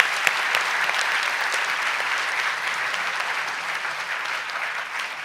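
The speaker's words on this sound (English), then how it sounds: "I think he deserves a thunderous applause" Sustained audience applause at the L N Birla debate finals 2022, a dense steady clapping from a large crowd in a hall that holds at full strength for several seconds and eases slightly at the end.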